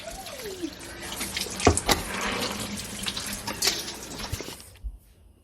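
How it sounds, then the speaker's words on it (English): A kitchen tap runs steadily while a spoon is rinsed under it, with a splashy, hissing stream and a few clinks and knocks before the water shuts off abruptly near the end. "let's go to rinse the spoon"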